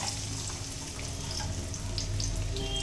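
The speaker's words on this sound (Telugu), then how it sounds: "రెండు ఉల్లిపాయలు ఇప్పుడైతే వేసేస్తున్నా ఆయిల్లో" Two sliced onions fry in hot oil for an egg fry, giving a steady, even hiss that holds at a constant moderate level throughout, with no voices.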